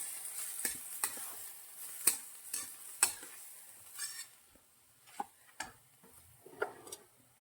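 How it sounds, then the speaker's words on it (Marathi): Chana dal and mixed vegetables are stirred in a pan, giving quiet, spaced scrapes and clicks of a spoon against the pan over a faint sizzle. "अशा प्रकारे आपल्याला दोन मिनटं भाज्या हलवून घ्यायची आहेत"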